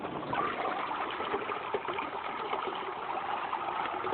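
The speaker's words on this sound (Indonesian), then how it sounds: "Tambahkan airnya terus." Water poured steadily onto a bokashi fertilizer mix, giving a continuous close splashing and trickling wash that runs unbroken throughout.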